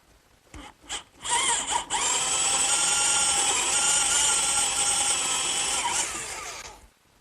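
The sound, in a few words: drilling counterbore holes for washers and nuts in wood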